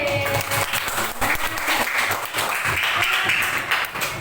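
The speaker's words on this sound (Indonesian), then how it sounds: "Tepuk tangan untuk Pak D." A class of children in an Indonesian classroom claps together, a dense and steady round of applause that stays loud and even for its whole length.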